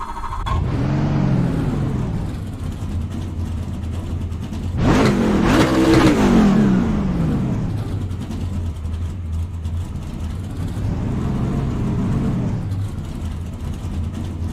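A Ford truck engine in the iRacing sim revs up and settles, then swells through a loud rising and falling sweep partway through before dropping back to a steady drone.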